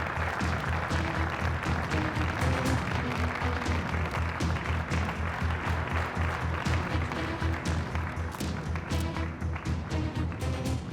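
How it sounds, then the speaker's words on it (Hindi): Steady applause from a crowd, dense and continuous for the whole stretch, with music playing underneath. "अली कोजान के लिए तालियां।"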